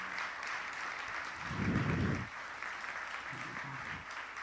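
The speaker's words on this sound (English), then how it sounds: "I think you need to give them a huge round of applause" Audience applause at the Saturnalia MYP 2024 school event, a steady wash of clapping from a crowd that swells briefly louder midway, then carries on.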